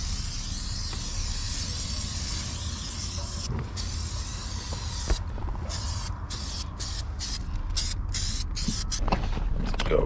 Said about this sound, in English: Now I've cleaned this several times and let's give it a spray.